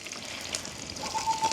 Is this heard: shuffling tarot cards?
no